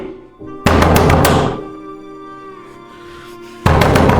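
Heavy thuds of someone banging on a door inside a house, a burst of several loud knocks followed by a pause and then another loud thump, with no talking.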